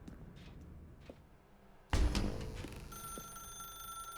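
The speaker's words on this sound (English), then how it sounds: "Now pick up the phone." A telephone in the video game The Stanley Parable bursts into ringing after quiet ambience, a sudden loud bright ring followed by a sustained electronic tone.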